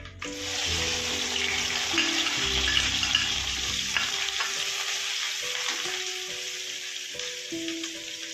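Mustard seeds and chopped onions fry in a pan, a continuous sizzle with stirring clatter and scrapes, loud at first and easing toward the end.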